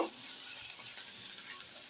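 Steady crackling sizzle of food frying in a pan, with soft scraping strokes of stirring throughout, close and fairly quiet.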